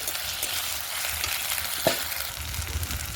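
Onions fry with ginger garlic paste in a pan, a dense continuous sizzle close by with soft stirring scrapes and one brief clink midway, heard alone without voices.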